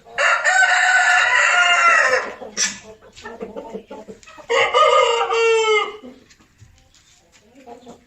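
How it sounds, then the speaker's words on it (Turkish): An Aseel rooster crows loudly twice, long strained calls close by, with quieter clucking and scratchy bird sounds between and after. "Güzel bir asil tavuk örneği."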